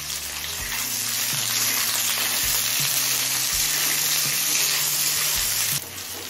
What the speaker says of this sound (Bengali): পেঁয়াজটা হালকা লাল করে ভেজে নিয়েছি